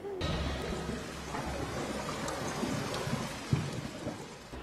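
Heavy rain pours in a film scene, a dense steady wash with low thunder rumbling underneath and a brief sharper crack near the end.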